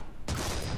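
A tank gun in War Thunder ground battles fires once, a sudden, heavy, close blast followed by a dense rumbling decay.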